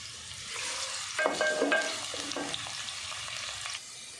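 Onions frying in oil for aloo matar curry, turning golden in the pan, with a soft continuous sizzle, a brief clatter of stirring in the middle, and no one speaking.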